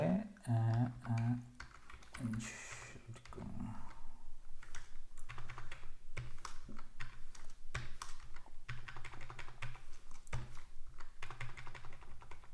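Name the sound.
typing on a computer keyboard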